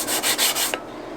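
Dry sandpaper rubbed back and forth on the metal of a Stanley Handyman hand plane, four quick abrasive strokes in a steady rhythm, close and fairly loud, then stopping with a small knock and quiet.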